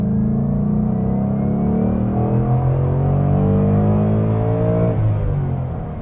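A Ford Mustang GT with a 5.0-litre V8 pulls hard from inside the cabin, its deep engine rumble rising steadily in pitch for several seconds before easing off near the end.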